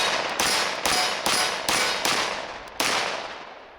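Six sharp, loud reports from a SIG Sauer P220 Legion 10mm pistol ring out at uneven intervals, each decaying quickly, with a longer gap before the last shot.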